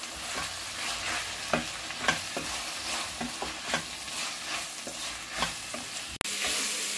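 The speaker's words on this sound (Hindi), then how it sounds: "टमाटर को भी अच्छे से फ्राई कर लूंगी।" Chopped tomatoes frying in a pan, a continuous sizzle broken by regular scraping stirs of a spatula, close by, ending with a sharp knock and a louder hiss.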